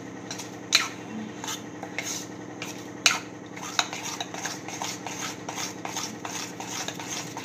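A spoon stirs rava dhokla batter in a bowl, producing repeated scraping and clinking strokes against the rim in an uneven rhythm, close and fairly loud, with no talk.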